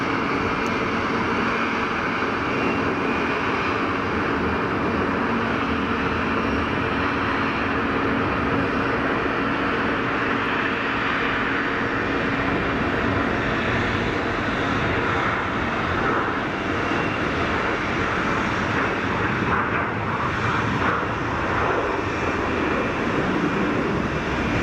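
An Air Algérie airliner takes off from Geneva Airport with loud, sustained jet engine roar and broadband rumble filling the whole stretch, steady and close.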